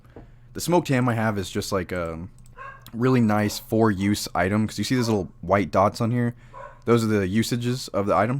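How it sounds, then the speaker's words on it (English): Dogs bark and yip in the background during a Stoneshard game playthrough, faint and intermittent beneath continuous close talking. "I'm sorry about the dogs in the background."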